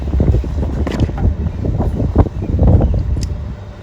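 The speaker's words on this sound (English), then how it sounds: "Got strong wind today." Strong outdoor wind buffets a microphone, producing loud, low, gusting rumble that swells and fades irregularly throughout.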